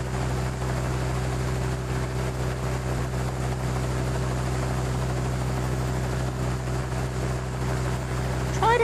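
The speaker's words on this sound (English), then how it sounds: "Press the space bar to make the zeppelin go up." A zeppelin engine drones steadily in a Dinosaur Train video game, a constant low humming propeller tone, even and unbroken throughout.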